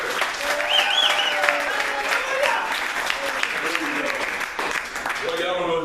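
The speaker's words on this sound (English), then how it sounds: "And now give a big old clap like the church." Loud, enthusiastic clapping from a seated audience at a comedic talk, full and continuous with a few cheers and voices mixed in under the claps.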